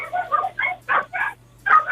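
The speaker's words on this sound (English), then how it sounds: "No, the dogs, they're far away from me, but they're loud." Several dogs barking and yipping in a quick uneven series of loud bursts, sounding fairly close with a steady low hum underneath.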